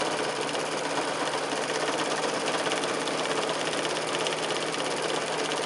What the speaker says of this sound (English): Just sew that right down the middle.